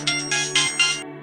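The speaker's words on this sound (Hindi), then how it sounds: "तभी टेलीफोन बजता है।" Office telephone ringing in four quick electronic trills that repeat evenly, loud and close, then stop, with no talking.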